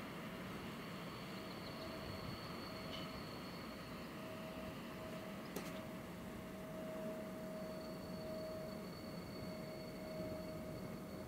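Steady, broad rumble of a freight train locomotive rolling past at a distance at Rosenbach station, with a faint high whine and a brief sharp tick midway, no voices.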